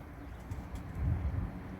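Soft, low pigeon coos murmur faintly in the background, a few muffled calls rising and falling, from a white-tailed male pigeon in training.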